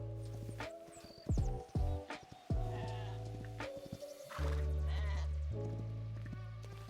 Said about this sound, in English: Oh, that's a fully grown sheep.